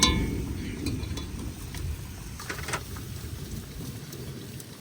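Steady rain falling outdoors during monsoon cooking in a Bengali village, a continuous broadband patter with occasional sharper drips, moderately loud and unbroken throughout, with no voices.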